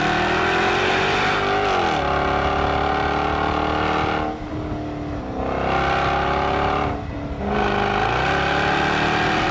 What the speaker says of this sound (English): I then got in the V8 and I need this noise in my life